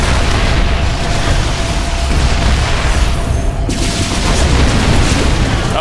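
StarCraft II game audio carries a loud, dense roar of Siege Tank shelling pounding a Zerg hatchery, with continuous booming blasts and explosions layered over one another and no pause across the stretch.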